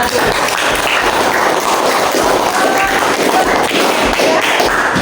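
A classroom group in Indonesia applauds at the end of a presentation, with continuous, loud, dense clapping from many hands filling the whole stretch and no speech over it.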